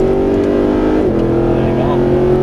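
Mercedes SLS AMG accelerating hard around a race track at Exotics Racing in Las Vegas, a loud steady engine drone rising in pitch from inside the cabin, with a driving instructor talking over it.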